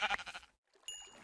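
A sheep bleats in the video game Minecraft: a loud, harmonic burst at the start, a short pause, then a second, thinner bleat with bright upper overtones.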